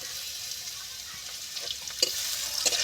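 Onion drops into hot oil where garlic has fried to a reddish brown for a fish curry, giving a steady hiss of sizzling with a few sharper crackles and stirring clinks, close and moderately loud.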